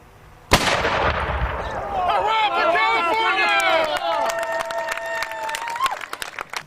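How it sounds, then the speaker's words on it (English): A single cannon fires in an outdoor demonstration, one loud, sharp boom near the start, followed by a crowd cheering, whooping and applauding for several seconds. "the Sierra Nevada Mormon pioneers who are going to do a cannon demonstration"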